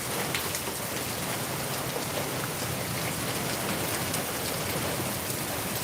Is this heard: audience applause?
no